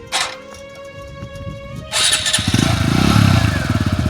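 A newly bought motorcycle gets cranked, a couple of short starter attempts followed by the engine catching and settling into a close, loud, throbbing idle.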